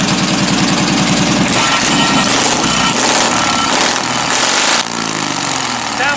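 A freshly finished race car's engine rumbles loud and close after firing up, a rough, steady idle with pulsing low throb and some revving, with no talk over it.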